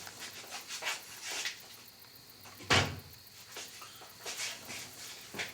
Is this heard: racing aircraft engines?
no